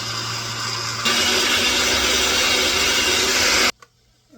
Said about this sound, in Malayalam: തേങ്ങ ഞാനൊരു ബ്ലെൻഡറിൽ അരച്ചെടുക്കുകയാണ്